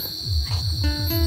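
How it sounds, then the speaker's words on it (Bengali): Crickets chirp steadily all around near a beach resort at Dublagadi on India's east coast, a high continuous trill with faster pulsing chirps layered over it, with no voices. "চারিদিক থেকে ঝিঝি ডাকছে"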